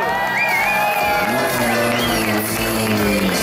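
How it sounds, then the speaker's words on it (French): Crowd at the Tour de Corse 2018 rally start ceremony in place Saint-Nicolas, Bastia, cheering Sébastien Loeb and Daniel Elena, a loud, dense mass of shouts and applause under an announcer's amplified voice and music. "Tonnerre d'applaudissements pour Daniel, Elena et Sébastien Loeb"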